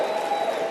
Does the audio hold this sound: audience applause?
yes